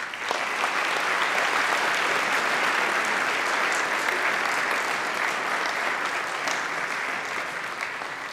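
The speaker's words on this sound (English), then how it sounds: "A round of applause, please" Steady, dense applause fills a large hall at a university Christmas concert, loud and sustained throughout with no break, the crowd clapping alone without talk on top.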